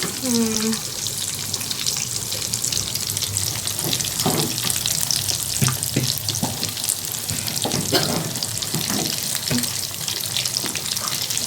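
Potatoes sizzling steadily in a hot pan, sticking slightly to the bottom, with occasional scraping from stirring and a brief voice near the start.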